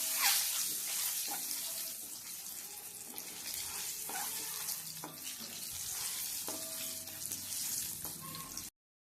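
Eggs frying in oil in a pan for an egg curry, a steady close hiss of sizzling throughout with faint clinks and stirring scrapes, no voices.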